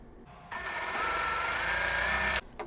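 Short burst of sewing machine stitching on sawtooth star quilt patches, a fast, steady whir lasting about two seconds between quiet moments, close by.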